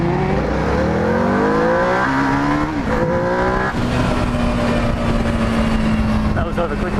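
An EBR 1190RX motorcycle accelerates hard toward 100 under heavy wind roar, its engine pitch climbing steeply through gear changes before settling into a loud, sustained drone.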